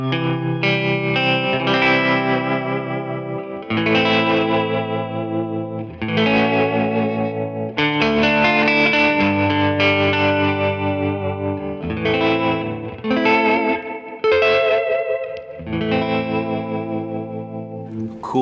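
A clean, surfy electric guitar tone for Cambodian rock plays ringing chords and melodic phrases alone, with a shimmering chorus effect and light echo.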